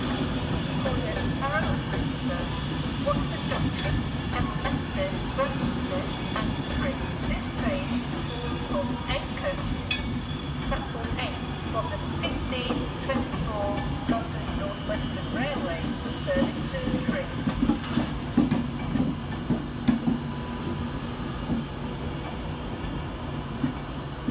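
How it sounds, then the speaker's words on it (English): An Avanti West Coast Class 390 electric train, unit 390-122, rolls into London Euston with a steady rumble and rail clatter, occasional sharp squeals and clanks, under continuous station noise and voices. "the arrival of 390-122, terminating 5 minutes late with an Avanti West Coast service off Birmingham New Street"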